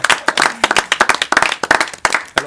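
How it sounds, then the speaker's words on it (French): A small studio audience on a local French TV show applauds, giving dense, close, uneven hand claps that carry on briefly without letting up. "Lucie, Mr. Low, on peut l'applaudir"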